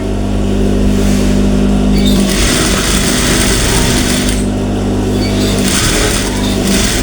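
A sewing machine stitching a blouse, running loud and close in a fast, steady whirring drone, pausing briefly and resuming several times, with no speech.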